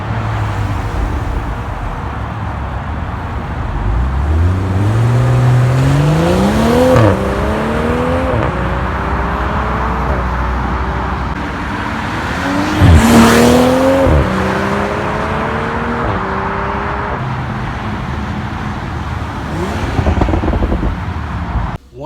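A 2020 BMW M340i launches hard and accelerates, its engine rising through the revs in loud sweeps with quick dips at each upshift, then pulling again as the car gathers speed, with no talk over it.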